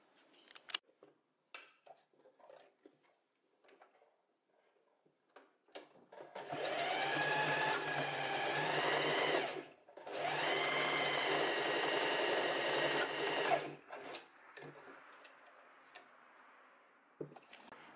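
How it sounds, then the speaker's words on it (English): A sewing machine runs along a blouse seam in two sustained whirring runs with a brief break between them, close and clear, framed by quiet handling clicks and rustles before and after. "And now we're going to sew from here, from this seam,"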